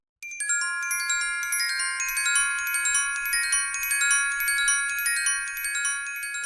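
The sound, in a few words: glockenspiel, orchestral bells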